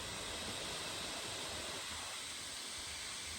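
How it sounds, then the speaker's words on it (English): Steady broadband whooshing hiss of an MSI Crosshair 16 HX gaming laptop's cooling fans running at high speed during gameplay, constant and fairly loud, with no talking. "the fans will sound like this pretty much the whole time."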